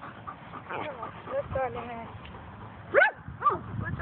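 Out in the country, a dog yips and barks with whimpering calls mixed through overlapping human speech, one sharper, louder bark standing out near the end.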